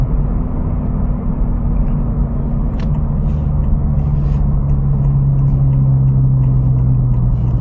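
Honda Civic Type R FL5 on Spoon springs driving on a road, heard from inside as a steady, loud, low engine and road rumble with a faint rising tone and no talking.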